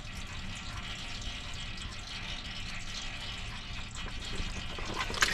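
Hydrostatic fluid from a tractor drains into a container as a steady, even pouring and gushing of liquid that runs without a break, with no one talking.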